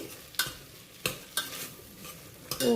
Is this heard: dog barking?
no